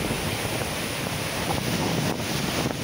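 Strong high-tide ocean waves surge along the Mumbai shore in a continuous, loud roar, with heavy wind buffeting the microphone throughout.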